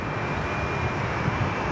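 A Jetstar airliner rolls out on the runway at Sydney Airport after landing, a steady broad roar of engines and rumble that stays at one even loudness, heard from a distance.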